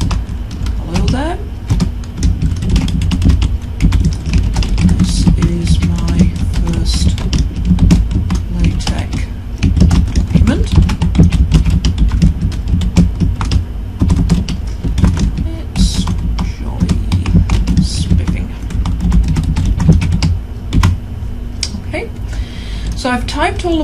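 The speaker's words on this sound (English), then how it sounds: "So I've typed all of my commands now and the content of my document." Steady clicking of someone typing on a computer keyboard while writing a LaTeX document, rapid close keystrokes continuing throughout with a few brief pauses and light background noise.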